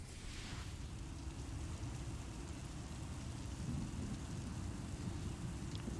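A thunderstorm in the game Star Wars: The Old Republic: heavy, steady rain pours down under a continuous deep rumble of thunder, dense and loud throughout with no voices.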